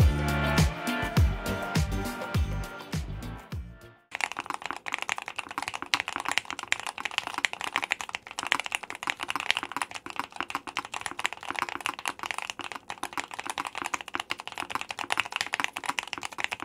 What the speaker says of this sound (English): we're gonna take out the aluminum plate, add the palm one instead, and we're even gonna add the tape mod just to give it a little bit more pop